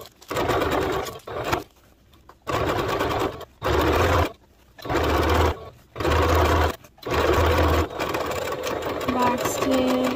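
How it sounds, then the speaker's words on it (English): Sewing machine top stitching around a daisy top garment, running in several bursts of one to two seconds separated by brief pauses, with a voice speaking near the end. "I'm just top stitching around"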